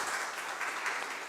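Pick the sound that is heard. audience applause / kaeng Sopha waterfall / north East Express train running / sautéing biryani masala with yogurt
audience applause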